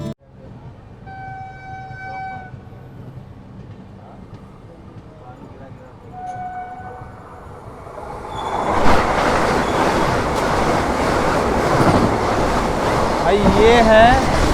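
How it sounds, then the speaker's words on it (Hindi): The Varanasi Vande Bharat Express between New Delhi and Varanasi passes at full speed alongside a moving train, starting as a quieter rolling rumble, then a loud, dense rushing roar with wheel squeal from about halfway on. "अपनी फुल रफ्तार के साथ हमें क्रॉस करने आ रही है नई दिल्ली से वाराणसी के बीच में चलने वाली वाराणसी वंदे भारत एक्सप्रेस"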